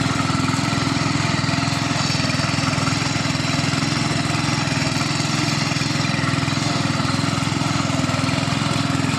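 A mini power tiller ploughs a field, its small engine chugging in a steady, unbroken drone close by throughout.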